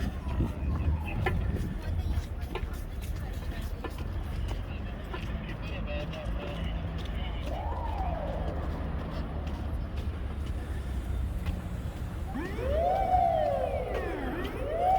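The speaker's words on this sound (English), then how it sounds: "Well, that was an ambulance." Background city traffic in downtown St. Petersburg in winter, then an ambulance siren wails up and down as it passes, growing louder near the end, with voices talking throughout.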